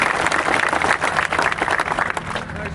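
A crowd at an Ohio State football camp applauds and cheers for the camp director, dense steady clapping with voices mixed in, loud and close throughout.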